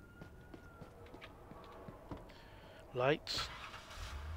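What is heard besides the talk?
police car siren in the video game Police Simulator: Patrol Officers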